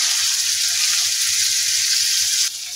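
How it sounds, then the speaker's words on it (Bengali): Pointed gourd (potol) frying in a pan, a steady bright sizzle of oil that holds constant, then drops slightly in level near the end. "এভাবেই আমি বাকি পটলগুলো ভেজে নিচ্ছি।"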